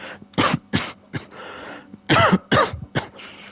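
A streamer coughs and clears his throat repeatedly at close range, several sharp bursts in quick succession with short pauses between them and no speech.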